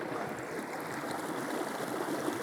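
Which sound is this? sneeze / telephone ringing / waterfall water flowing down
waterfall water flowing down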